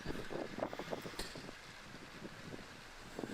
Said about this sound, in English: You can see the wind is really starting to whip up now.